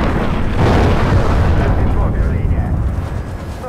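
A loud explosion rumbles in the Far Cry 3 video game, a dense low boom that swells and then slowly fades over a few seconds, with game sounds beneath.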